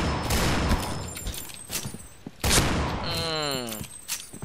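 Airsoft or paintball-style gunfire rattles in bursts, loud and close, with sharp cracks followed by a ringing, whining tail as shots hit nearby.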